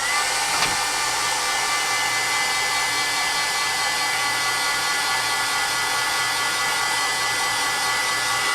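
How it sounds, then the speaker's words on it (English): Heat tool drying ink on a craft project, a steady, loud, close blowing whir with an even fan hum that holds unchanged throughout. "I'm gonna give it a really quick heat dry"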